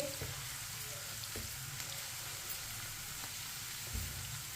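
Chopped onion browning in ghee in a pan for masoor dal, with a steady broadband sizzle and occasional soft scrapes of a spoon stirring, continuous and fairly close, with no voices.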